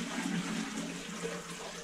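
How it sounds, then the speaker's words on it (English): Water poured by hand into a toilet tank in a ranch house with cut water lines, a soft continuous splashing and gurgling fill, fairly quiet and close, with no talking. "when you fill the toilet with water"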